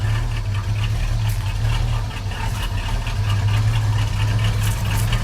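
A 1989 Chevrolet S10 pickup with a V-8 engine swap, running a little rich on old fuel and exhausting through two mufflers, idles low and steady with a deep rumble, close and loud throughout.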